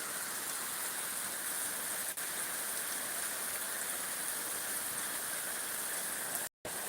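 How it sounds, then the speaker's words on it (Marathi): A windless downpour over farmland keeps up a constant, full hiss of falling water, with a faint click early on and a brief cut to silence near the end. "शांततेत पाऊस पडत आहे"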